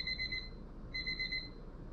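An in-stock alert alarm from the nowinstock.net website plays as two short bursts of high electronic beeping, a rapid chirping pattern with a pause between, fairly faint and clean with no talking.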